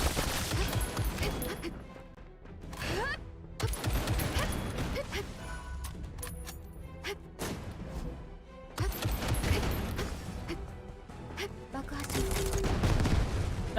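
A grenade launcher fires in the SoulWorker action game amid rapid bursts of gunfire, crashes and explosions, with short Japanese voice lines from the game mixed over the dense, chaotic combat noise.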